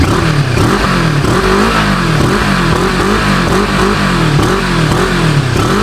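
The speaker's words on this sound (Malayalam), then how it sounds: "ആ എക്സോസ്റ്റ് നോട്ടും കൂടി കേട്ട് നോക്ക്." A Moto Morini scrambler's 180-degree twin-cylinder engine with underbelly exhaust revs repeatedly and loudly up close, the exhaust note rising and falling in quick blips over a steady rumble, with no talking.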